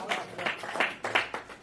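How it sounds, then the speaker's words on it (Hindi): Thin, scattered clapping from the audience at a Hindi poetry recital (kavi sammelan), coming in a loose rhythmic patter of separate claps. "तालियां कमजोर है भाई ना।"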